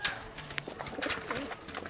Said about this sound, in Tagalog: Tignan po natin mga kalapatids.